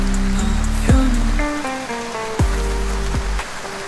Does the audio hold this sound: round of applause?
no